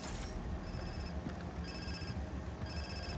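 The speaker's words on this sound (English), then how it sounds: "My phone's ringing." A phone ringing faintly in repeated short electronic bursts with brief gaps between them, set against a steady background hum.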